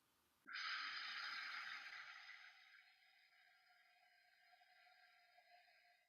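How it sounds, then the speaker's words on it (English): A single long exhaled breath in a quiet room, performed as a wordless breathing chant during meditation: a sharp airy onset, then a sustained hissy breath that slowly fades over several seconds. "It's a non-vocal breathing chant"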